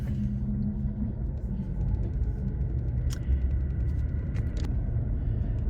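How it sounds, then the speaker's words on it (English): Heavy road traffic passes outside a window, a continuous low rumble of engines with a few brief higher whooshes from passing vehicles, steady and moderately loud with no talking. "a lot of traffic"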